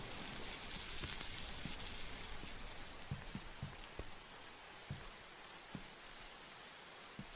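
Rain falls steadily in the horror video game Chicken Killer. A soft, even hiss of rainfall plays with occasional faint drips and taps, and no voices are heard over it.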